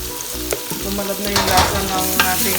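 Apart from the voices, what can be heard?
sautéing garlic, onion and ginger in a pan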